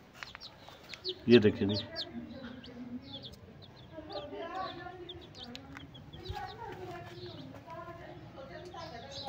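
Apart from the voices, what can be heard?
colorful baby chicks peeping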